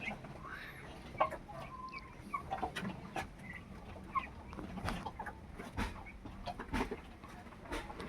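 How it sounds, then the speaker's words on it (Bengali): White and red hens in a partitioned coop cluck and cackle in scattered short calls, fairly faint, with small rustles between them. "সাদা মুরগি আর লাল মুরগি সব আলাদা করে দিয়েছি, মাঝখান থেকে পার্টিশন দিয়ে আলাদা করে দিয়েছি।"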